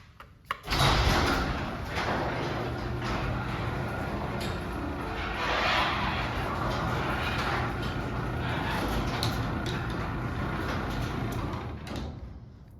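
A Liftmaster 3280M opener raises a garage door with a steady mechanical run, a bump at the start and a continuous rumble and rattle from the moving door that stays fairly even for about twelve seconds before stopping.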